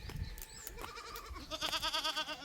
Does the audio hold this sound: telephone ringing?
no